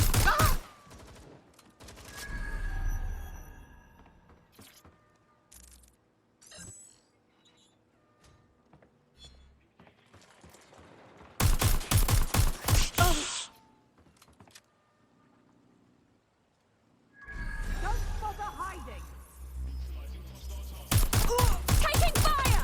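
Gunfire in Watch Dogs: Legion comes in loud, rapid automatic bursts, separated by quieter stretches that carry scattered clatter and game sounds.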